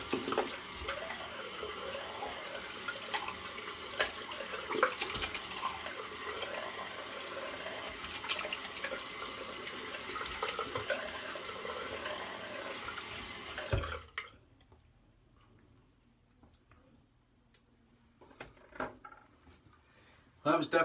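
Running tap water rinses a shaving brush at a sink after a wet shave, a steady broadband splash for about fourteen seconds that then cuts off abruptly, leaving near silence and a few small clicks.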